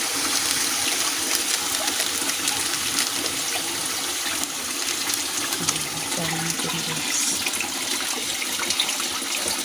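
Water pours steadily into a cooking pot, splashing continuously for several seconds, a dense rushing sound close by with a faint low clatter in the middle.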